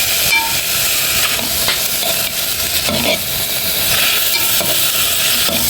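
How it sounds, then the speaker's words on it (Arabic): Meat stirred in a pot with only a drop of oil as its fat renders, giving a continuous loud sizzle and hiss broken by repeated scraping stir strokes, with no talk. "هقلبهم شويه لحد ما ينزلوا الدهون بتاعتهم"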